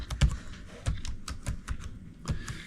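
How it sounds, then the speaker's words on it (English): A laptop keyboard is tapped in a short burst of separate keystrokes as a password is entered, each click close and crisp with small irregular gaps, in a quiet room with no talking. "Key in the password for that user."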